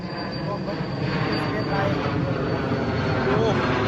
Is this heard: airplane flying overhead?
yes